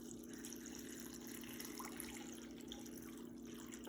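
Warm water poured into a pickle mixture for gua bao prep, a steady continuous liquid stream with a faint hum underneath, nearby and even throughout with no pauses.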